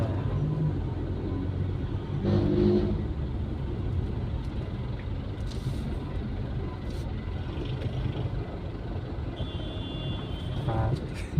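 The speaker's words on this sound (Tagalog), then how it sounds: "Traffic na." Steady road traffic on Ortigas Avenue Extension with rumbling engines of cars and buses, continuous and fairly close, with faint horn-like tones near the end and talk in the background.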